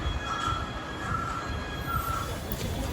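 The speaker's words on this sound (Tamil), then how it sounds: "நம்ம சென்னை சென்ட்ரல் ரயில்வே ஸ்டேஷனுக்கு வந்துட்டோம்" A train at Chennai Central railway station squeals along the rails in a loud, steady metallic screech over a rumbling rolling noise, fairly close, with no talking.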